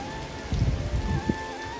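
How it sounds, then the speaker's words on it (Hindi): Heavy rain pours down outdoors, falling on plants and the ground as a steady, dense wash of noise with a few louder gusts, heard close with no one speaking. "यहाँ पे देख सकते हैं बारिश बहुत तेज शुरू हो गई है"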